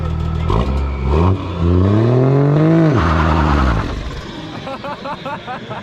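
A straight-piped 454 big block engine revs in loud, rising bursts that climb, hold and drop away, followed by fainter rattly pulses as the throttle eases.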